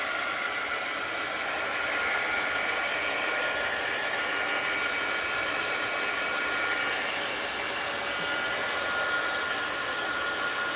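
A hair dryer blows steadily on wet paint on a mixed-media art journal page, a loud, continuous broadband whoosh with a faint motor hum that holds evenly for the whole stretch, with no talking over it.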